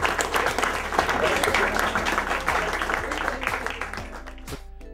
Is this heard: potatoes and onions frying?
no